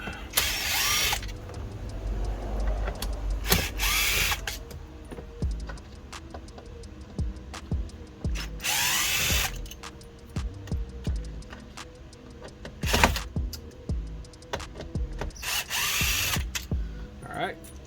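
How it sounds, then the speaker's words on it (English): Loud power drill bursts in short spurts backing out screws while installing a car touchscreen head unit, whirring briefly several times with clicks and handling noises between. "my handy dandy drill. We're going to go ahead and back that out."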